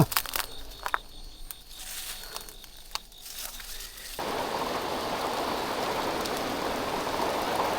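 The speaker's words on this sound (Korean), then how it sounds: "왜 우리가 나갈라 그러면 비가 오는 거야?" A sudden rain shower starts at an eel fishing spot, jumping from quiet outdoor background with a few light taps to steady, loud, dense rainfall that continues to the end.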